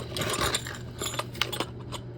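Bonnet nut being hand-tightened onto a plumbing valve, a close series of small metallic clicks and rattles over a low steady hum.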